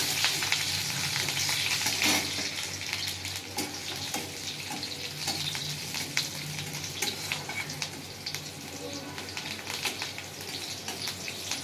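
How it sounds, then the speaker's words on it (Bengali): Onions fry lightly in hot oil with black cumin seeds in a kadai, a steady close sizzle broken by crackles and occasional stirring scrapes, without speech. "পেঁয়াজটা হালকা ভাজা ভাজা করে নেবো।"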